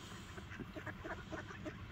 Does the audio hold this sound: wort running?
no